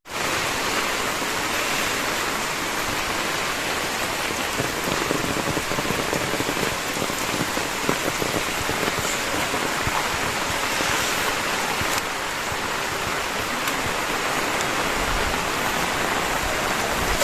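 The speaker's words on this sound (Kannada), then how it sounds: "ಇವತ್ತೇನೆ ಇಷ್ಟು ಜೋರ್ ಮಳೆ ನಮ್ ಕಡೆ, ಬೆಳಿಗ್ಗೆಯಿಂದ ಸಂಜೆವರೆಗೂ ನಾನ್ ಸ್ಟಾಪ್ ಮಳೆ" Heavy monsoon rain pours nonstop in a village yard, a dense, steady hiss of drops drumming on surfaces, loud and unbroken throughout.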